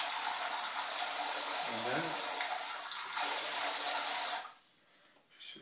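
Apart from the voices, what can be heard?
water running through bidet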